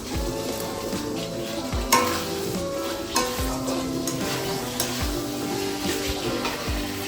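Potatoes are tipped into a pan of frying masala with a steady loud sizzle, while repeated scraping stirs and clinks of a spoon against the pan come every second or so. No one speaks.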